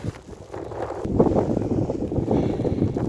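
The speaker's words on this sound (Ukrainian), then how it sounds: "вже вітер, сніжок перемітає" Gusty wind roars and hisses across an open, snowy space, drifting snow, buffeting the microphone and building in strength after a quieter start.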